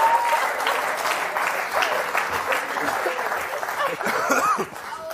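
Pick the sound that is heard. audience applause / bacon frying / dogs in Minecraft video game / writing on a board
audience applause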